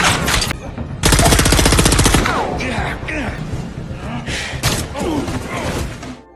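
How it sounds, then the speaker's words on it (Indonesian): Gunfire during a prison shootout between a SWAT-style special forces team and gang henchmen in an action film: a dense burst of rapid shots with heavy impacts, followed by scattered blasts and crashes over a loud, busy soundtrack. "tembak-tembakan."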